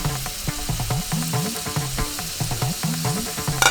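Two big chopped shallots crackle and sizzle in hot oil in a pan, a steady close frying hiss dotted with rhythmic popping and stirring scrapes.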